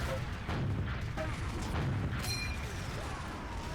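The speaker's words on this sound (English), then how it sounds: "I'm gonna just keep jumping up, throwing rockets down." Rockets burst repeatedly in Team Fortress 2 gameplay, dull booms and thuds rolling one after another through a dense, steady din of combat noise at moderate loudness.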